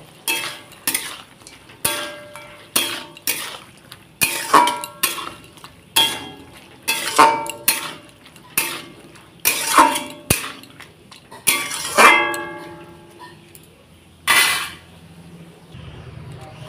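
Small puti fish are gently stirred in a hot frying pan. A metal spatula gives a series of distinct clanks and scrapes against the pan at irregular intervals over a faint background sizzle.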